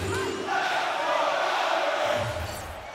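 Crowd at an Edmonton Oilers versus New York Islanders hockey game in NHL 23, a loud, sustained roar of cheering fans in an arena, swelling briefly then easing toward the end.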